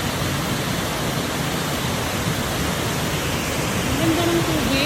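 Water rushes steadily in a loud, continuous broadband roar, likely a waterfall or fast stream, with brief faint excited voices near the end.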